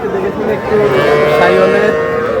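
Cattle at a market for young bulls and heifer calves give a loud, drawn-out moo close by, with other low animal sounds and crowd murmur behind.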